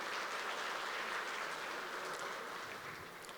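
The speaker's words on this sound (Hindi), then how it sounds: "आपकी तालियां मुझे बताएंगी कि इस इन्वर्टर से आप कितना खुश हैं।" Audience applause at an inverter product launch, a steady, fairly faint round of clapping from a crowded hall that fades slightly toward the end.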